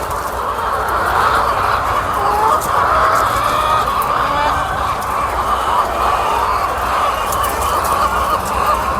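Crowds of chickens clucking at a Tamil Nadu chicken farm, a dense, continuous chorus of overlapping clucks and squawks that fills the space loudly and steadily from start to finish.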